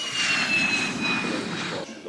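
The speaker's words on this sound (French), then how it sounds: "L'avion rentre de mission" A military aircraft taxis in after landing from a one-hour training mission, its loud, steady engine whine dominant throughout, with a high tonal component and slight fading near the end.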